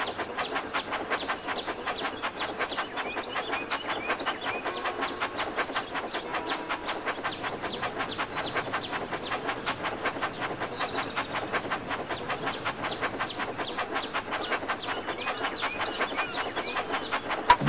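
A toy train engine from a Thomas and Friends game, the big blue engine Gordon, rolls along its tracks in a fast, even clickety-clack rhythm with a steady hiss, loud and unbroken throughout.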